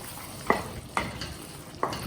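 Potatoes frying in a pan sizzle softly under three distinct spatula scrapes, spaced roughly half a second to a second apart, close and clear with no talking.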